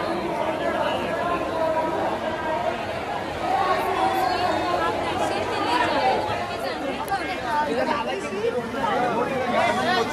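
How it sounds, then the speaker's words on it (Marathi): Dense crowd chatter from people queuing for Lalbaugcha Raja darshan in Mumbai, a steady close babble of many voices with no pauses throughout. "लालबागच्या दर्शनासाठी गर्दी आहे एवढी"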